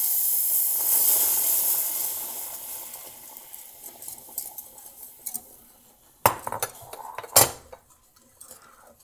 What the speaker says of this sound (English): we want 3/4 cup of the boiling water, or just off the boil water. And we're just gonna whisk